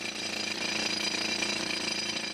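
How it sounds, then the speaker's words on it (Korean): Loud, rapid hammering clatter of a rock drill boring holes into a huge marble block, about 9 m long and nearly 15 tons, at a marble mine in Makrana, continuous and close with no speech. "우선 암석에 구멍을 뚫는 기구인 차감 드릴을 사용해 천공 작업에 들어가기로 했다"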